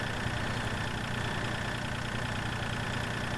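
A tractor engine idles in Farming Simulator 2013, a steady, dense mechanical drone with an even low rumble that holds without change and has no speech over it.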